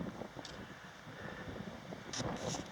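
Wind gusts buffet the microphone on a mountain trail around 8,000 feet on the Three Fingered Jack loop in Central Oregon: a quiet, steady low rumble with slightly stronger gusts near the end.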